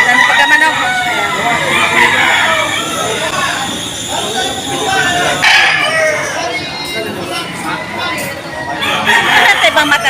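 A Boston breed rooster at a poultry market crows loudly several times, with clucking hens and other fowl around it, while people chatter nearby in the background.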